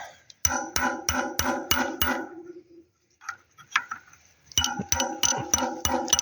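Rapid metallic tapping on a bicycle part in quick even bursts, a short lull with a few scattered clinks, then another run of light ringing blows close by.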